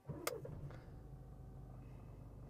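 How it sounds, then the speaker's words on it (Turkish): A 2016 VW Passat Highline 1.6 TDI DSG diesel with 164,000 km starts cold: a brief crank and catch, then a steady low idle rumble heard close up. "Şöyle aracı çalıştırayım."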